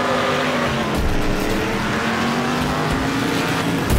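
Car crash in the demolition derby racing game Wreckfest, heard as a loud, steady roar of racing engines with tire noise and a brief heavy impact, continuous for the whole stretch with no talk.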